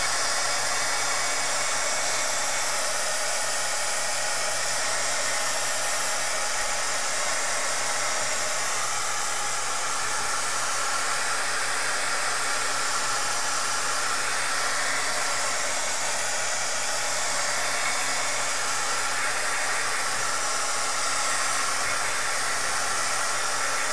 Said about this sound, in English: now I'm just going to hit it all with the dryer just to dry some of it